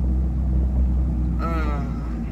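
Car driving, a steady low engine and road rumble heard from inside the vehicle, with a person talking over it partway through.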